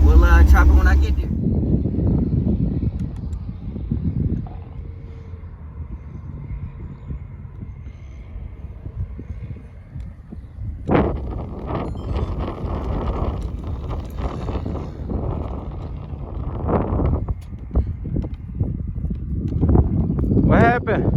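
A Chevrolet El Camino that keeps stalling is out on a test drive, its steady low road and engine rumble mixed with wind buffeting, while someone talks over it near the start and the end.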